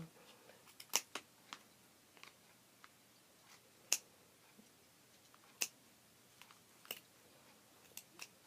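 Dull scissors snipping yarn while a pom-pom is made, sparse sharp close clicks spaced irregularly with quiet gaps between them, and no talking.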